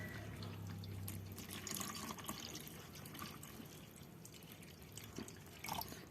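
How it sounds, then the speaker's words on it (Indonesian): Rice-washing water with bran is poured into a container to revive a Jakaba mushroom culture, giving a faint, uneven trickle with scattered drips and splashes. "kita masukkan air cucian berasnya. Ini yang udah kita aduk tadi, jadi dedaknya kita ikutkan."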